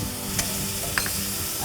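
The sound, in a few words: curry frying in hot oil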